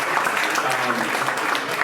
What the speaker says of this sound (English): just want to give a round of applause again for our awesome panelists